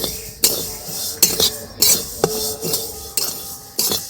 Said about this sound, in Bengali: এই তিলটাই শুধু ভেজে নেব